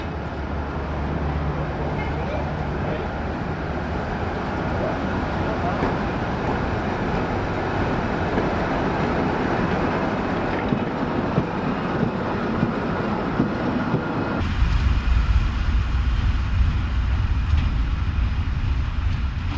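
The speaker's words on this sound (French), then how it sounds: "Arrivés à Modane, les 2 BB 8100 vont manœuvrer pour se remettre en tête de la rame pour le retour." Pair of SNCF BB 8100 electric locomotives manoeuvring at Modane station to run round their train, giving a continuous loud rumble and rolling noise that deepens and grows heavier toward the end, with no talk over it.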